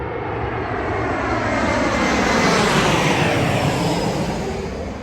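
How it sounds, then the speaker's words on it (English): A fixed-wing airplane passes low overhead on its landing approach, a loud, steady broadband engine roar that swells slightly and then eases, with no talking. "we're going to have to get a picture with Hot Chocolate in the background and a plane landing"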